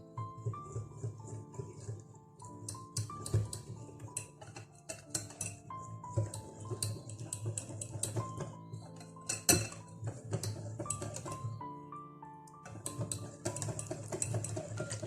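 Oat porridge stirred in a pot, a spoon clinking and scraping against the metal in an irregular rhythm, faint and close, with soft background music underneath.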